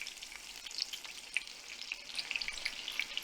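Battered onion rings deep frying in grease heated to about 370 degrees: a steady, close crackling sizzle with scattered sharper pops and spits throughout, with no voices.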